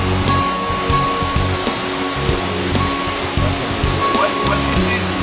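River water flowing in Hawaii, a loud continuous broadband rush with faint irregular splashes, steady throughout and close by.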